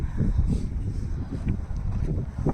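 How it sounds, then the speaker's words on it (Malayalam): Cold wind blowing at Everest Base Camp, a steady low rumble and buffeting against the microphone that runs through the whole stretch with gusty swells and no voices. "അതുപോലത്തെ തണുപ്പും കാറ്റും"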